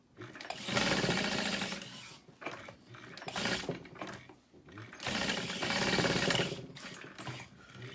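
A sewing machine stitches a backpack seam in two long runs and a short burst between them, a close, fast whirring hum with brief pauses.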